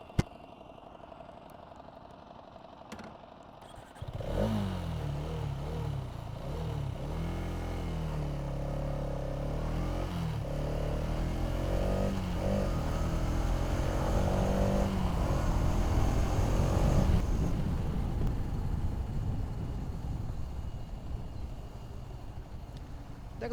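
A 249 cc Hero Xtreme 250R motorcycle engine, 2025 model, idles briefly, then starts riding with a steady, loud, rising drone and several gear changes, heard up close without talk.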